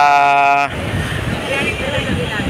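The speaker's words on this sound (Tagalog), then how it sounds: "ang lakas ng alon na yan, no?" Strong waves at Dolomite Beach roll and wash in a continuous, loud broadband roar mixed with wind buffeting the microphone, starting right after a brief steady tone.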